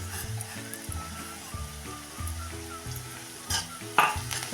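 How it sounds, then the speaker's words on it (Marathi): Crushed garlic and green chili with a pinch of chili powder sauté in a hot pan, a steady close sizzle with occasional stirring scrapes over a quiet musical backing. "फक्त हा लसणाचा कच्चापणा कमी होईपर्यंत परतून घेऊया"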